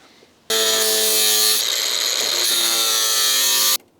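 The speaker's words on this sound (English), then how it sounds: "I'm actually going to cut right on the line with my cutting disc" An angle grinder's cutting disc slicing through a rusty steel front wing of a Porsche 924, a loud close high whine that starts abruptly, shifts pitch as it bites into the metal midway, then stops sharply.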